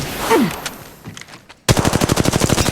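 Rapid automatic gunfire in the mobile shooter Apex Legends Mobile, a loud, evenly spaced burst of shots after a quieter stretch of distant game sounds, with no talk over it.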